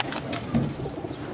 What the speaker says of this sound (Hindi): सफेद कबूतरी है, मोती है वाली